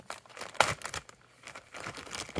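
A large plastic bag is torn open with one hand, giving a run of crinkling, rustling bursts and a sharp rip near the start, close and fairly loud with no talk.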